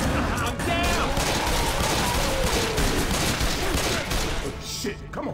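Dense, continuous gunfire from the video game Left 4 Dead 2 fills the whole stretch as a rapid, overlapping barrage of shots. Voices are faintly mixed in under the noise.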